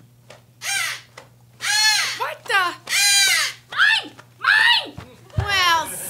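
A crow caws loudly and repeatedly in a run of harsh, ragged calls during a scene from an episode of an audio comedy series, with a person exclaiming briefly in between.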